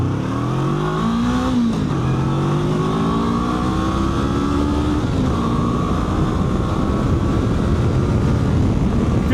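2025 Honda NX500 motorcycle accelerating hard on a public road, its engine note climbing through gear changes, loud and close over constant wind rush.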